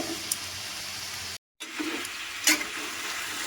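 Chicken being stirred into spices in a hot pan gives a close, steady sizzle with scraping stirs, broken by one brief silent cut.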